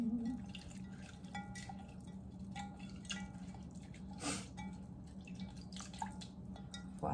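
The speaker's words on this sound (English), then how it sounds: "So what I'm gonna do is just pour it in here, pour some in here, because I want to rinse it." Mountain water poured over hair locs for a rinse, heard as a quiet run of irregular drips and soft splashes against a steady low background hum, close and faint, with no talking.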